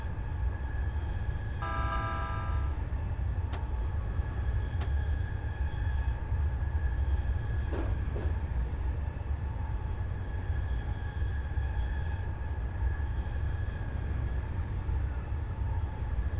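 A Keihin-Tohoku line train passes in a train simulator game, a faint, steady low rumble with brief tonal whines and a few soft clicks, heard alone.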